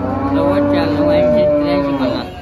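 A cow at a livestock market lets out a long, loud, close moo lasting a couple of seconds, with its low droning tone wavering before it trails off.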